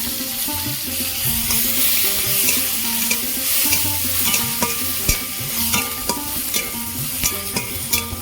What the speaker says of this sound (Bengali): রসুন দিয়ে আমি ভালো করে ভাজা ভাজা করে নিয়েছি